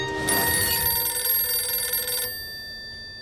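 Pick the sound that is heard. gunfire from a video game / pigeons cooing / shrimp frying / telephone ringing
telephone ringing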